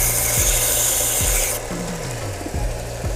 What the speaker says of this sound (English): I'm just sanding it down so it fits in here